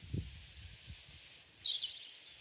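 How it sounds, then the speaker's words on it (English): Small birds give a few faint, high tweets from a distance in the sunny September autumn gardens of Hanbury Hall, with soft rustling and low wind noise. "Birds are tweeting."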